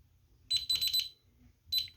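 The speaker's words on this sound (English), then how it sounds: "System alarm, we'll disarm it." A home security alarm keypad gives short high-pitched electronic beeps: a rapid burst of four or five tones, a pause, then one more beep, close and fairly quiet.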